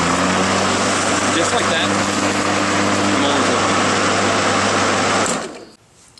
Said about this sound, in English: here I'm going to start the mower and just watch. Push the button, pull the handle.